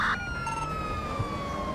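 A police car siren in the video game GTA 5 wails in a steady, sustained tone over continuous engine and game background noise, fairly loud throughout.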